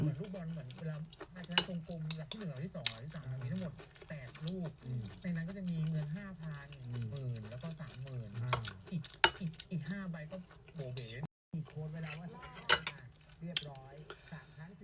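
Stir-frying in a hot pan with oil and a dash of light soy sauce: spatula scrapes and metallic clinks recur under near-constant conversation, with faint sizzling in the background.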